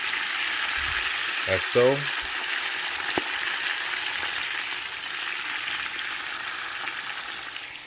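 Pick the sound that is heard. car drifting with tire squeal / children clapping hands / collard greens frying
collard greens frying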